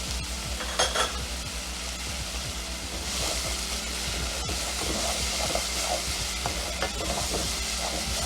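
Garlic sizzles in a hot pan with a constant hiss, broken by scraping and light clinks as it is stirred, heard close with no voices.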